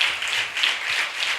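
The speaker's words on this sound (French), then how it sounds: "Applaudis pour le roi des rois." A steady crowd of hands clapping together in rhythmic, continuous applause from a church congregation, fairly loud and without any talking.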